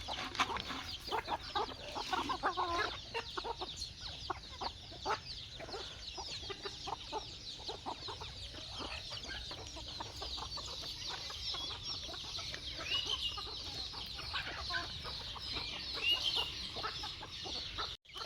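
Hungry chickens cluck and chatter in a busy flock, their calls rising and falling steadily at moderate distance while rain patters in the background.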